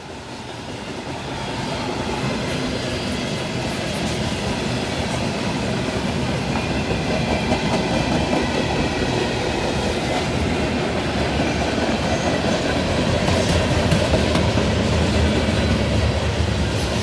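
BNSF freight train cars, including refrigerator and coal cars, roll steadily past with a continuous rumbling clatter of wheels on track, growing slightly louder over time, with no voices.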